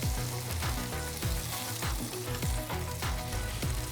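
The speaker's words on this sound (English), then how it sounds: "Throw a little butter in each of these" Butter sizzles and crackles steadily in a hot pan for an egg sandwich, a loud continuous frying hiss with scattered pops and no talking.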